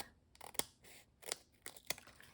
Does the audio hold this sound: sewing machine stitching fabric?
no